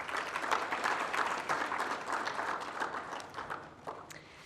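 Steady audience applause fills a room at a charity benefit dinner, a dense wash of many hands clapping at even loudness throughout, tapering slightly toward the end.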